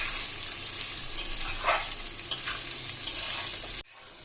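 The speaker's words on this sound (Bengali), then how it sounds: "এটা ভালোভাবে ভেজে নিতে হবে। এই মায়াপুরের ঘিয়ের সেন্টটা কিন্তু খুব সুন্দর, অসাধারণ।" Rice with raisins frying in Mayapur ghee sizzles steadily and close, with occasional spoon stirring strokes; the sound cuts off abruptly near the end, and no one speaks.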